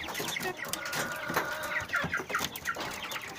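Several broiler chickens in a cage cluck and chatter close by, a busy stream of short calls overlapping with no voices.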